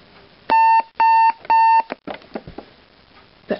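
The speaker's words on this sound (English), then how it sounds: "That was my alarm." An alarm clock goes off with three loud, evenly spaced electronic beeps close by, followed by soft rustling and small knocks as it is silenced.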